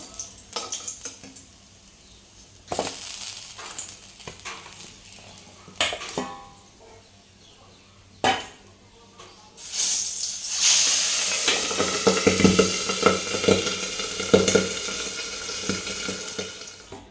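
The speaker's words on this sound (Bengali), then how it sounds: "আর মাছগুলো একইভাবে ভেজে নেবো" Pabda fish frying in mustard oil, with utensil clatter and scattered short sizzles early on, then a loud sustained close sizzle with crackles through the second half.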